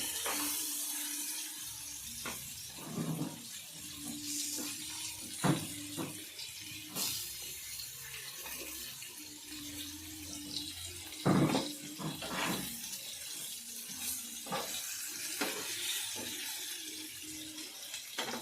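Fish pieces frying in oil in a pan, a steady broadband sizzle running throughout with soft clinks and turning sounds at intervals, fairly close and moderately loud, no talking.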